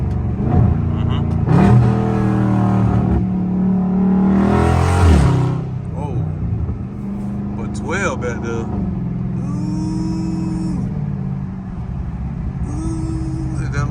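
A very loud Dodge Charger Scat Pack engine revs hard through a downshift in traffic, roaring up in loud bursts before settling into a throaty rumble.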